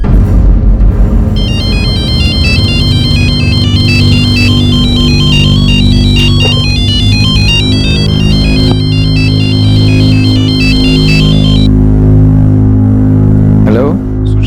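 An incoming phone call rings with a loud repeating electronic ringtone melody, looping for most of the stretch over a steady dramatic background hum, then stopping near the end.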